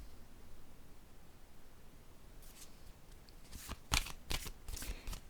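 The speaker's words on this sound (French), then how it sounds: "Je vais piger une autre carte." Tarot-style cards are handled and one is drawn from the deck, giving soft papery rustles and slides that come in quick bursts toward the end over a quiet background hiss.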